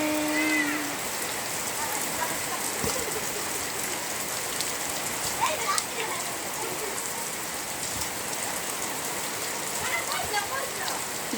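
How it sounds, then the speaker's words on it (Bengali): Rain falling during a football game, a steady close patter and hiss of drops on surfaces that continues throughout, with scattered brief tones and faint voices in the background. "কি অসাধারণ বৃষ্টি!"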